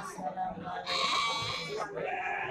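Goats bleat loudly nearby at the Cikalong Kulon livestock market in Cianjur, with one long wavering call followed by shorter cries, mixed with background voices and market noise.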